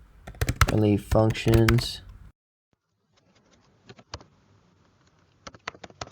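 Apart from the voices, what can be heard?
typing on a Mac computer keyboard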